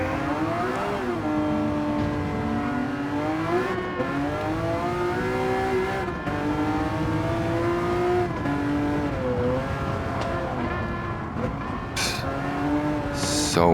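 Race car engine in Gran Turismo 7 on PSVR2, a continuous loud high-pitched whine rising and falling through gear changes, with brief tire squeal and shifts, no talk over it.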